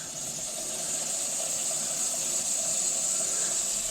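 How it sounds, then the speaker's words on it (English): Steam hisses steadily from a pressure cooker cooking trout, a continuous broadband rush at close range with no speech over it. "that's just the steam coming off of there"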